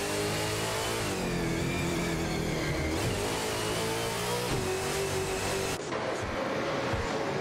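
Race car engines in an AI racing video game drone and whine continuously, with rising and falling revving pitches from several cars layered together in a dense, loud stream.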